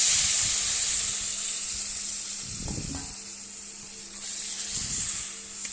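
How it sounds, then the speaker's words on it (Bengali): A pointed gourd curry with spices and water bubbles in a pan with a continuous hissing sizzle, broken by a few brief stirring scrapes. No one talks. "দেখো একটু ফুটতে থাকবে"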